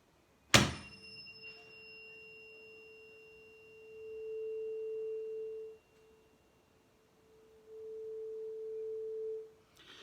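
A tuning fork is struck once with a sharp tap, then a steady pure tone rings as air resonates inside a matched bottle, swelling in two long sustained stretches with a gap between.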